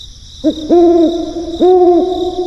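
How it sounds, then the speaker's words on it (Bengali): An owl hoots in a quiet night setting, two clear hoots, each preceded by a short note, resonant and fairly loud over a faint steady hiss, with no speech. "শুধু দূরে কোথাও প্যাঁচার ডাক"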